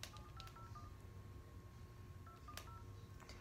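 Keypad tones ring out as a phone number is dialed on a telephone, a quick run of short beeps in two bursts over a steady low background hum.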